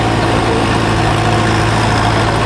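Old pulling tractor in a century-class pull at the Clinton County Fair tractor pull, its engine roaring loud and close in a steady, heavy drone as it takes off with a big load in tow.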